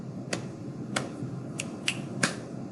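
Body percussion in a quiet room, five sharp snaps and claps spaced about half a second apart, close and crisp over low background noise.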